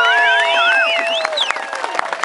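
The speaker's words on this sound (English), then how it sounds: "So a round of applause for everybody" A crowd at a beer rally cheers and whistles loudly, with scattered clapping building in underneath.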